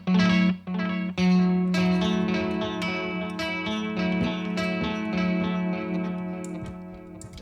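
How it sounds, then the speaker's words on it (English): Guitar played through a cosmic echo delay effect on a Line 6 HX Stomp, sustained notes with repeating echoes and a washy, effected tail, loud and continuous with no talking. "So, for example, you have this like cosmic echo."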